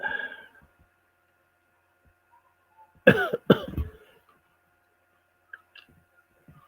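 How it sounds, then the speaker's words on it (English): Two sharp coughs in quick succession, close by, in an otherwise quiet room with a few faint clicks. "You'll have to excuse me coughing, folks"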